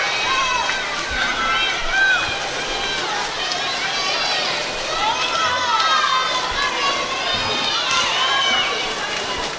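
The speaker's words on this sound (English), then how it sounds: "and they're cheering loud" Crowd of swimmers at an indoor pool cheering and shouting loudly, a dense continuous roar of many voices echoing throughout with occasional rising bursts.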